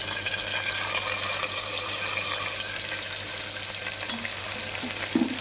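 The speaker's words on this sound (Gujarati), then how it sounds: "એ સતળાઈ જાય એટલે આપણે આ મસાલો પાણીવાળો કરી નાખ્યો તો એ નાખીશું અંદર." A watery masala of garlic and chilli paste fries in hot oil in a home kitchen, giving a steady, even sizzle and bubbling hiss that continues throughout with no speech.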